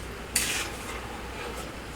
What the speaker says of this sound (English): I'm going to have to stand here and stir constantly